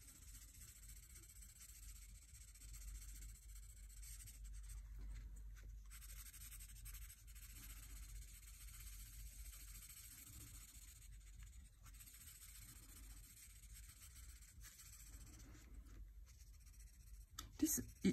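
A Prismacolor coloured pencil scratches softly across paper while colouring in a printed adult colouring book, a faint steady scraping heard beneath a person talking.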